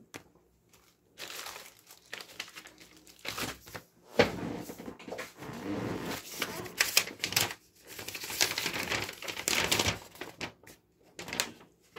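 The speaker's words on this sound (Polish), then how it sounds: "A druga to się otwiera i zamyka na szufladka napędu" A Dell DW316 USB DVD drive's tray opens and closes with plastic clicks, rattles and mechanical whirring, loud and close in a series of bursts with short pauses between them.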